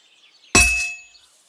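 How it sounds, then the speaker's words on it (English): A single bright metallic clang from a smithing strike in the video game Kingdom Come Deliverance II, with a sharp onset and a ringing tone that decays over about half a second, heard alone. "Besides the sparks, you can tell a good strike by the sound it makes. That's the ring you want."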